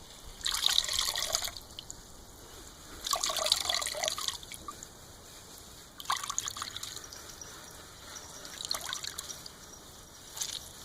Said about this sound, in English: you can put it into a cheesecloth and strain out more of the juice